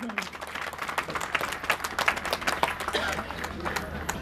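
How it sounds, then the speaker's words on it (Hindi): A crowd applauds at a school's 22nd annual athletic meet, the clapping moderately loud and continuous with sharp individual claps standing out and some voices underneath. "तालियां दी जाए"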